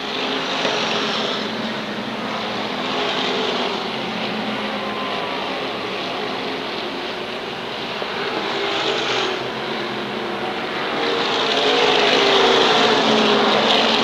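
SK modified race cars at Waterford Speedbowl roar in a continuous loud, dense engine drone on the oval, building slightly louder toward the end, with no talk.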